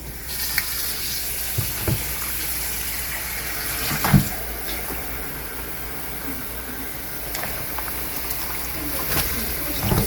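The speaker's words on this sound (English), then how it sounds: "I'm going to rinse rinse the salt of the salted cabbage." Running water splashes steadily in a basin as salt is rinsed off salted cabbage for Korean kimchi, with scattered handling knocks and one louder clunk midway; no voices.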